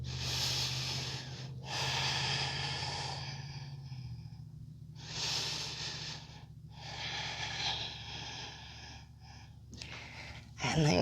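Deep breaths during a morning yoga session, several slow inhales and exhales heard close up in a steady rhythm over a low continuous hum, with a sharper intake at the end.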